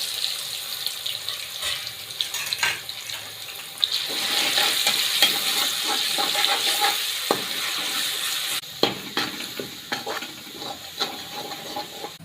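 Crushed garlic, coriander and salt hitting hot oil, a loud continuous sizzle with scattered clicks and stirring scrapes, a sharp burst as more goes into the pan partway through.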